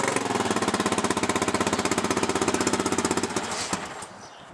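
Honda XR250 dirt bike engine warming up, a loud, rapid, even thumping idle that runs steadily before sputtering and dying out near the end.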